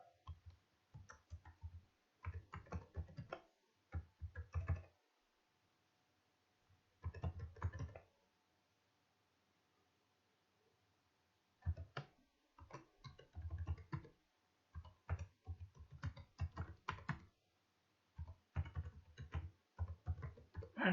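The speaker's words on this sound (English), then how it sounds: "I am typing in Google Chrome address bar" Computer keyboard keys clatter in bursts of quick typing, clicks close and clear, separated by several pauses of near silence with no voices.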